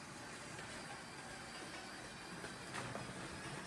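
A motorized LEGO Crocodile locomotive runs along its track with a faint, steady motor whir and light rolling clatter, continuous and even throughout.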